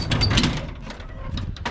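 Door or gate of a house pulled shut, a short scraping slide with a couple of knocks over about two seconds, fairly close.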